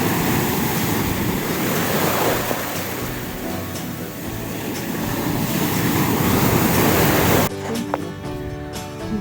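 Steady Black Sea surf on an Odesa beach washes continuously for several seconds, a broad even roar of waves on the shore, cutting off abruptly near the end to quieter background.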